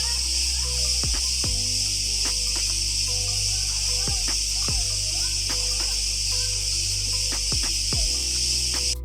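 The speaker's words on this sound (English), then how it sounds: "me and Mrs. Geeks were greeted by this massive groups of cicadas as we arrived" A dense, steady chorus of cicadas fills the air continuously at Lake Kournas on Crete, loud and unbroken, with a few faint clicks and rustles underneath.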